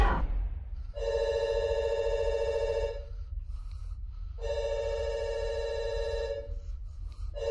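A telephone rings in two long electronic bursts separated by a short pause, loud and clear against a quiet room with no speech.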